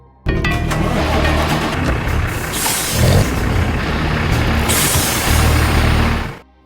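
A truck engine starts up in an action film scene, a loud sustained broadband engine roar with low rumble holding steady for several seconds before cutting off, with brief hissing bursts over it.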